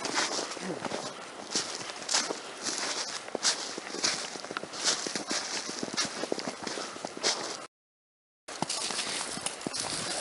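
Footsteps of backpackers trudging through snow in a forest, a steady crunching rhythm of several walkers close by, briefly cut off near the end before resuming.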